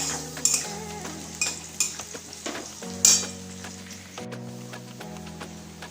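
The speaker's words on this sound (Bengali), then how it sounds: "এই ননদের প্রিয় কুমড়ো ভাজা" Pumpkin slices fry in a hot pan in a home kitchen while a utensil stirs them. A steady sizzle runs underneath, with several sharp metal scrapes and clinks from the stirring.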